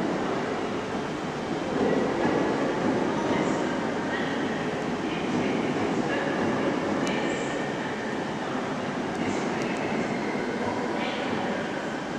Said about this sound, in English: departing now is a Stansted Express service to Stansted Airport